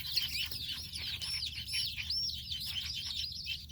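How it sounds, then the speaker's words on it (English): Rapid high-pitched chirps from small birds, a busy continuous twittering close by over a low background hum. "Little baby bird."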